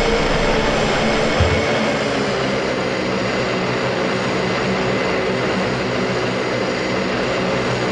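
An animated turboprop plane takes off with a loud, steady roar of propeller engines and rushing air that holds constant for several seconds, starting with a brief low thump and carrying no talking.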